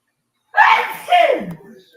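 A single loud, close sneeze with a sharp intake and forceful burst, trailing off into a brief breathy tail.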